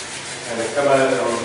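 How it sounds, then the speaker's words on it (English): Steady scratchy rubbing of 180-grit sandpaper on a block across a panel, strokes blending into a continuous rasp, close and moderately loud. "Grab some 180, put it on a block, start sanding it."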